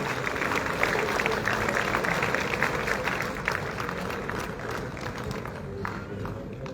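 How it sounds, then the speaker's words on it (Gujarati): An audience at an award ceremony claps steadily to welcome an honoree, a dense, continuous applause that tapers slightly toward the end. "ખૂબ ખૂબ તાળીઓથી વધાવીએ"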